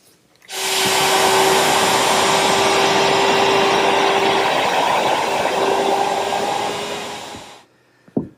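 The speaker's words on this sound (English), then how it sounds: "This time I'm using a guide fence on the router." A router fitted with a guide fence cuts drainage slots into wooden shelves. It runs loud and close for about seven seconds with a steady whine, then spins down to silence, ending with a faint knock.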